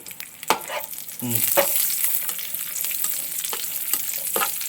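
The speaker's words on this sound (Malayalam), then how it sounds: "കിസ്മസ് ഇട്ടു, ഉണക്കമുന്തിരി നന്നായിട്ട് ഇളക്കിക്ക്, കരിഞ്ഞു പോകരുത്" Raisins and cashews sizzle in hot oil in a pan while being stirred, a steady close frying hiss with scraping knocks from the stirring.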